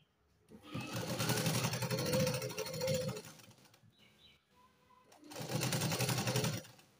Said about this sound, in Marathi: आणि शिलाई घालायला सुरुवात करायची.